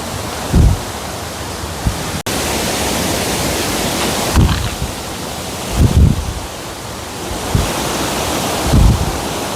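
A forest waterfall among rocky hills pours as a constant loud rush of water, with a brief dropout and a few low thumps or wind buffets on the microphone.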